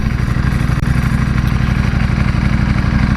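A Ducati Superleggera V4 motorcycle engine runs close up, loud and steady, with a fast, even throbbing beat throughout.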